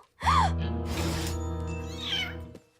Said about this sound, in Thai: มานี่เหมียวเหมียวเหมียวเหมียว